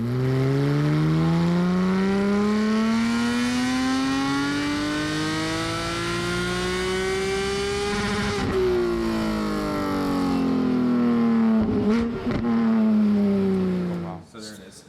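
A Porsche 718 Cayman GT4 engine on a dyno revs hard and steadily for a long stretch, winding up to a peak, dropping briefly, then climbing again before cutting off.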